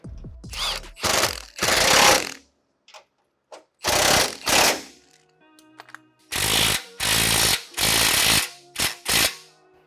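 Power tool tightening a 13mm bolt and washer on a bracket during a Gen3R install on a 2015-2017 Ford F-150 5.0 L, repeated short loud buzzing rattling bursts with silent gaps and light clicks between them.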